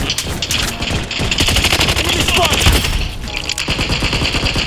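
Rapid automatic gunfire in a ranked-match shooter video game, loud dense bursts of machine-gun fire continuing throughout, up close with no pauses.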